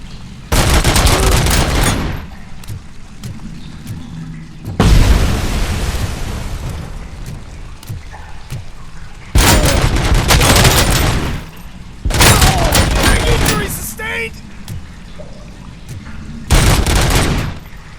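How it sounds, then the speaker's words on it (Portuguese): An OCP turret fires in the video game RoboCop: Rogue City, loud sustained bursts of rapid gunfire coming in five separate volleys with brief quieter gaps between, close and dominant. "OCP Turret. Uma torreta OCP."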